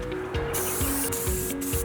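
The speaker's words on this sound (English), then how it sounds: "I brought it outside to spray paint it all a matte black." Short bursts of spray paint hiss from an aerosol can as a dust cyclone cart is coated matte black outdoors, several close hissing sprays in an uneven rhythm.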